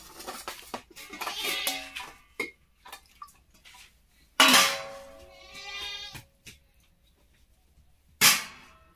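Goats bleat in loud, close bursts, with sharp knocks and clicks scattered between the calls and short quiet gaps.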